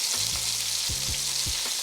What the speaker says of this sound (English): once you see that it's starting to get some good crust, like you see right here, we're going to begin breaking it up